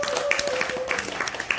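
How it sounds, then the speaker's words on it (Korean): Warm applause at a reporters' team gathering for a small-business news outlet, clapping for the publisher: a steady wash of many hands clapping with a tonal hum and scattered louder claps, and voices mixed in beneath. "다시 한번 우리 발행인께 뜨거운 박수 부탁드립니다"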